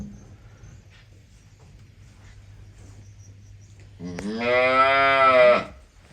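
After a quiet stretch of faint insects, a buffalo lets out one long, loud, low moo nearby, lasting about a second and a half.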